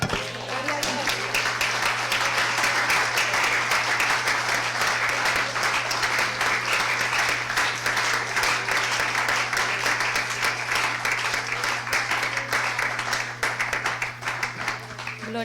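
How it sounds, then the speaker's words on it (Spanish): Sustained applause from a large crowd at a church prayer service, loud and steady throughout, with a low constant hum underneath and the clapping thinning slightly near the end. "Dele un aplauso al Señor."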